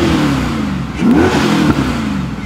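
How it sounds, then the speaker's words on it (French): A V8-swapped BMW E30 M3 idles with a deep rumble, then revs up and down in a couple of quick throttle pulls, loud and close. "tu nous mets un coup de gaz ou deux avec la BM"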